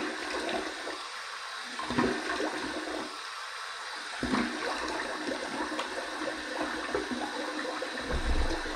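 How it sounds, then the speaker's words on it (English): Running water for a warm rinse during a shave with a Mission razor rushes steadily from a tap, with brief splashes and bursts of flow and no talk. "I'm going to go ahead and do a warm water rinse"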